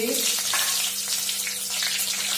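Dried red chillies and bay leaves hit hot oil in a pan, giving a steady, loud, close sizzle with broad hiss for the whole stretch and no talk over it.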